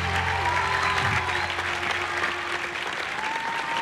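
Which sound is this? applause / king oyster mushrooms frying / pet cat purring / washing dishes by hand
applause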